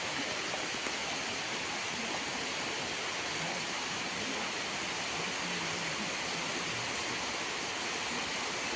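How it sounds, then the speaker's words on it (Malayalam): Steady rain falls in a dense, even hiss that continues unchanged throughout, with no talking. "പോകാൻ ഇറങ്ങിയപ്പോഴത്തേക്ക് ഒരു മഴ അല്ലേ"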